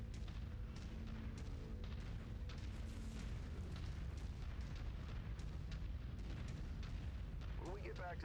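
Explosions and heavy booming fire in the MechWarrior 5: Mercenaries game, a loud continuous rumble with repeated sharp blasts throughout, with a voice speaking over the din.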